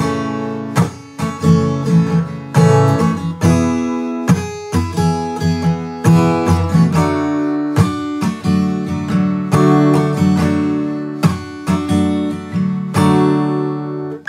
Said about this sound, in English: Alright, so for the chorus, I'm using this following strumming pattern.